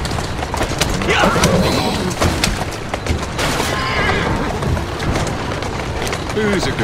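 A horse neighs and whinnies in Assassin's Creed Syndicate while it pulls a carriage through the game's streets, with clip-clopping hooves, rain and loud clattering around it.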